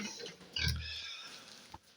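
Piétrain pigs in a pigsty let out a short, loud grunting oink, followed by quieter snuffling and a brief knock, close by and with no voices.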